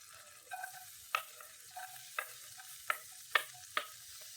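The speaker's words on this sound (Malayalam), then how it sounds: "ഇനി ഗൈസ് ഞാൻ പറഞ്ഞ നമ്മുടെ വെളുത്തുള്ളി ഇടുന്നുണ്ട്." Garlic dropped into hot coconut oil, giving a faint, quiet sizzle broken by several sharp scraping stirs of a spoon against the pan at irregular intervals.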